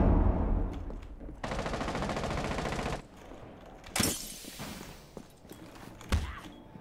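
Hip-fire gunshots in Rainbow Six Siege: a burst of rapid automatic fire runs for about one and a half seconds, followed by a sharp crack and scattered impacts and footsteps, then a final loud shot near the end, all fairly loud with no talk.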